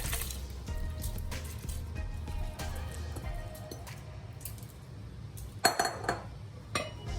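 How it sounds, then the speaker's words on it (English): Cinnamon stick, star anise, kaffir leaf and rice going into a pot for mango sticky rice, with clinks, light rattles and small knocks of ingredients and utensils against the pot, close up. "Add cinnamon stick, star anise, and the kaffir leaf, and then add the rice."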